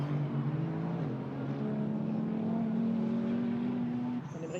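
GT4 race cars, a Toyota and a Mercedes, running nose to tail at the Paul Ricard circuit, a steady droning engine note holding pitch at a moderate distance before fading at the end.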